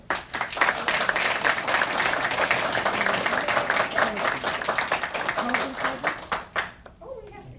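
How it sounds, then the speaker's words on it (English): A community audience at a mayoral candidates' forum in Roslyn Estates claps for the candidates, dense, close applause that runs strongly for about six seconds and then thins to a few scattered claps, with some voices mixed in. "So let's applaud the candidates."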